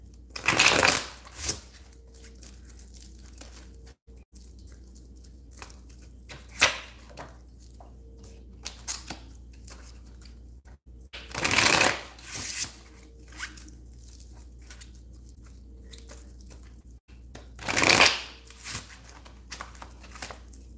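Tarot cards being shuffled in several brisk bursts, each a short riffling rush, separated by long quiet stretches.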